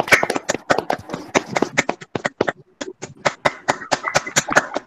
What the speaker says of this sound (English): So can we just clap for the entire team and all of you?